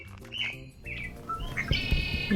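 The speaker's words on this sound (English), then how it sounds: "there's a yellow warbler singing in the trees" Birdsong in trees by Lake Ladora, where a yellow warbler sings; bright chirps and quick tweets overlap in a busy chorus, moderately close, with other birds calling beneath and no voices.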